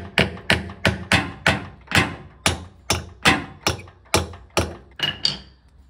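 A nut on the heater element of a Bosch Maxx 7 Series washing machine is tapped lightly, giving about thirteen evenly spaced sharp knocks that are close and clear, with no talking.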